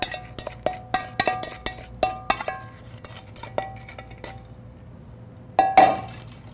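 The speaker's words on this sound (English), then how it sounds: "So we're just going to put them through a strainer." A spoon scrapes and clinks against a metal strainer as broken-down peaches are pushed through it: a quick run of sharp, ringing metallic taps and clatters, a pause, then a louder scraping burst near the end.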